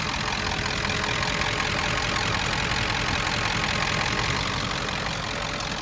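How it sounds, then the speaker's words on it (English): A 1990s Ford F-250 with a 7.3L Power Stroke diesel idles nearby, a steady loud clattering rumble with the AC compressor cycling under it, no voices. "You can hear the AC compressor cutting on, cutting off."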